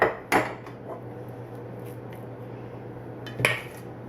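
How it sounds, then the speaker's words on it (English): Muffin batter being spooned into muffin cups for cranberry muffins, with two sharp clinks of a spoon against the pan about three seconds apart over a soft, low background hum. "now we evenly disperse this in each of the muffin cups"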